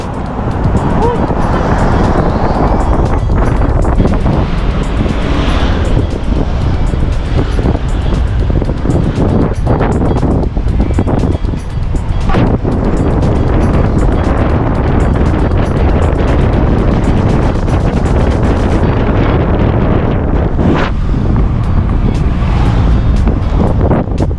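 Strong wind buffets the microphone during a ride with a loud, constant rumbling roar throughout, and a voice talks faintly underneath.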